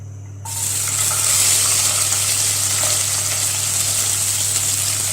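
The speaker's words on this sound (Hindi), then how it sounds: "ऑयल हमारा अच्छी तरह गर्म हो गया। अभी हम इसमें ऐड करेंगे प्याज।" Onions hit hot oil in a karahi and break into a loud, steady sizzle that continues evenly, close up, after a brief quiet start.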